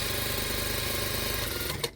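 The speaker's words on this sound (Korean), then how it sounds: "3cm 정도 선을 박음질을, 대박음도 살짝 하고 쭉쭉 해주시면 됩니다." A sewing machine runs a straight stitch line about 3 cm long on a knit turtleneck sweater, with light backstitching, giving a fast, steady mechanical whir close up that stops abruptly at the end.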